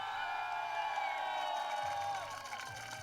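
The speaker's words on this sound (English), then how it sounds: "And who is cheering for Italy?" Spectators at the women's team gold archery final in Cortina cheer for Italy, a packed stand of shouting and whooping voices, with a sustained horn-like tone over the crowd noise and a low hum beneath.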